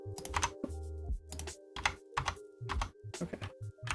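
Keys clatter on a computer keyboard during an infosec hacking puzzle session, in several quick bursts of keystrokes separated by short pauses over a faint steady background hum.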